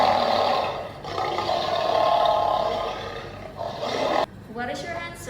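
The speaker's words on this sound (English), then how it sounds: "It's a lion." A lion lets out a long, loud, rumbling roar that swells and fades, cuts off abruptly, then starts again with a second rougher roar, heard up close and alone.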